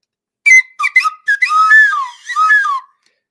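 A slide whistle plays a short, wavering run of notes, a few quick toots followed by longer gliding pitches that bend up and down, loud and close with nothing underneath.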